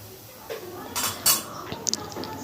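A spoon scrapes and knocks against a pan while spice paste is stirred for a Bengali kasundi aloo dum, giving a few separate metallic clinks and scrapes over a quiet background.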